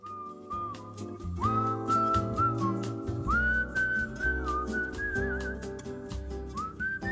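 Melodic whistling carries a tune over a steady instrumental backing, the whistled line rising and sliding between sustained notes.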